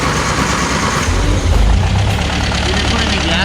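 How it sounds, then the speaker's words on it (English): A 1951 MG TD engine, unused for years, cranks and catches, then runs with a loud, rough, throbbing idle close to the microphone while people talk faintly in the background. "this is the first time we're gonna see if it'll start up"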